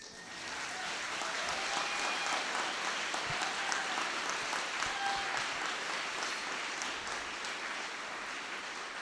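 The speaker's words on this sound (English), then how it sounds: "we got to give him a clap" Sustained applause from a crowd, steady and full throughout, with no talking.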